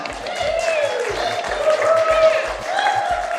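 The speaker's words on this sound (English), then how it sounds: "give yourself a round of applause." A crowd at a live show in Ortonville, Michigan applauding steadily for several seconds, dense clapping with cheers mixed in, moderately loud throughout.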